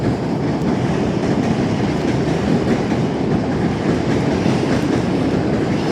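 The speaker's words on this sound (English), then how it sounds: "Train coming over the bridge." A train crosses a bridge over the Passaic River in New Jersey, heard from a kayak on the water below, making a loud, continuous rumbling roar with faint rhythmic clatter throughout.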